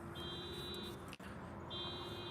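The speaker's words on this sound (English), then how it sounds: "the car noise, right? The beep, right? The alarm." A car alarm sounds as a steady high electronic tone in two stretches, before and after a short gap, heard faintly behind a constant low rumble of background noise.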